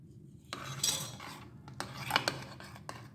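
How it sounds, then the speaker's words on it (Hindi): Spoon clinking and scraping against a bowl while chicken marinade is mixed, a few sharp taps and stirring scrapes, close and fairly quiet with no speech. "अच्छी तरह से मिक्स कर लेंगे इसको"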